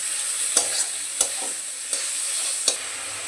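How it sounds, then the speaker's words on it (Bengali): Ginger paste and ground spices fry in a pan of hot oil with a constant bright sizzle, punctuated by four or five distinct scraping strokes of a spatula at a roughly even pace. "এরপর দিয়ে দেব আদা বাটা ভালো করে কষিয়ে নেব মশলা কাঁচা গন্ধটা যাওয়া পর্যন্ত"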